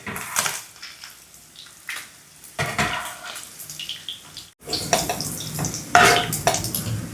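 Freshly fried paneer pieces scraped and lifted from a pan onto a plate for paneer fry piece biryani, with irregular utensil scrapes, metallic clinks and light sizzling, close and moderately loud, with no talking.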